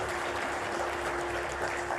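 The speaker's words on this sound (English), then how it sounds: "A big round of applause, please." Audience applause at a Kargil 25th anniversary honours event, greeting the chief guest as a dense, steady wash of clapping throughout, with a faint held tone running underneath.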